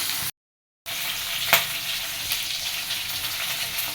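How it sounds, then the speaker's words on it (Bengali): Tilapia fish frying in hot oil, a dense, steady sizzle that is briefly cut off near the start and then returns, with one sharper crackle and no voices. "আর এই তেলাপিয়া মাছটা ভেজে নেব"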